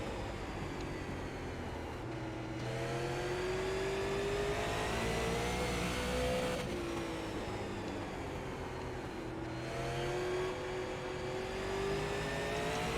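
A Super Late Model race car in the iRacing sim racing game drones steadily, its engine pitch rising through the gears and dropping on shifts, with another car audible nearby; no talking.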